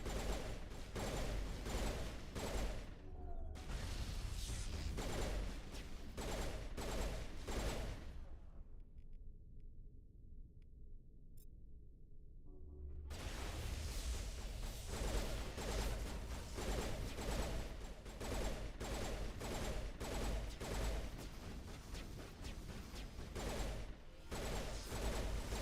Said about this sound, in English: Oh, this is a burst pistol.